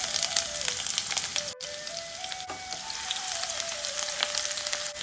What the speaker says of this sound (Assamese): এতিয়া মই শুকান জলকীয়া দুটা তেলত দি দিছোঁ।